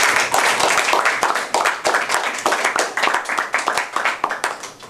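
An audience at a Toastmasters meeting claps steadily for the evening's speakers, a sustained round of applause from a roomful of hands, moderately loud and indoors with no talking.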